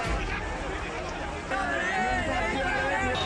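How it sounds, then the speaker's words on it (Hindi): Crowd of migrant workers in commotion on the streets during a lockdown, loud continuous babble of many overlapping voices with shouting, close and chaotic throughout. "सड़कों पर मजदूरों की भीड़, हंगामा, घर वापसी की मांग और अफरा तफरी।"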